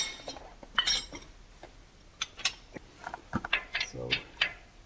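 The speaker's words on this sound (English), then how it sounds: "So, next step, getting the torque spanners." Metal torque spanners clinking and clattering as they are fetched during a Range Rover air suspension repair, a scattered series of sharp, fairly quiet taps and chinks.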